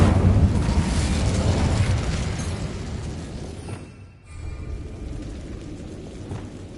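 A fire spell cast in Hogwarts Legacy on PS5 produces a loud, dense burst of roaring flame and crackle, then a brief dip and a smaller whooshing flare-up.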